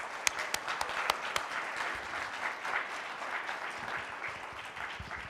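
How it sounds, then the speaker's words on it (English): An audience claps together in a steady, dense wash of applause after a talk at a conference event, with a few sharper individual claps standing out near the start and the noise holding level throughout. "So a round of applause for all of you."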